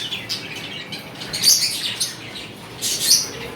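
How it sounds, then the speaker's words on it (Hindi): Pet lovebirds kept as a pair in an indoor cage give bright, high chirps in two short bursts, fairly close, with a faint hiss of room noise between the calls. "ये मेरे लव बर्ड हैं।"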